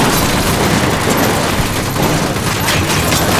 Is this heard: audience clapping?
no